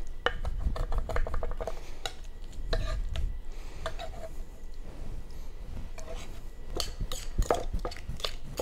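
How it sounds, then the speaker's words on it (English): Fresh raspberries being chopped and smashed with a knife on a board, a run of sharp clicking taps and thuds in irregular clusters, close and fairly quiet. "Chop these up real fine. Break them up. You can smash them."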